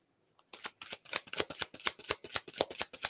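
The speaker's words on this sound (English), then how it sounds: "I'm just shuffling away here." A deck of tarot cards is shuffled by hand close up, producing a quick run of crisp riffling flutters and soft slaps that start after a brief silence and continue rhythmically without speech.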